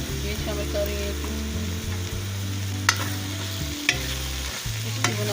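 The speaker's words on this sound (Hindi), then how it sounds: "अब इसमें मैं शामिल कर रही हूँ लहसुन अदरक का पेस्ट।" Bitter gourd frying in oil as garlic-ginger paste is stirred in; a continuous close sizzle runs beneath a sustained background music bed, with a few sharp spoon scrapes against the pan and no voices.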